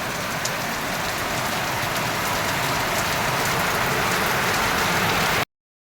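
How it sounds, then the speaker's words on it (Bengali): Heavy rain pours down in a dense, steady hiss, loud and constant, then cuts off abruptly near the end. "দেখো কত বৃষ্টি পড়ছে"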